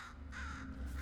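A single harsh crow-like caw from a bird in the video game Portal Stories: Mel, close and clear with no other sounds.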